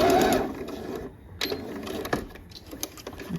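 A domestic sewing machine stitching fabric for a vest, running in a brief loud burst then continuing in short quieter bursts as it sews a back stitch.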